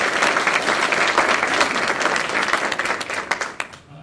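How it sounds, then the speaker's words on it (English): Audience applause at a county youth awards dinner, dense steady clapping that stays loud, then thins and fades near the end. "please hold your applause"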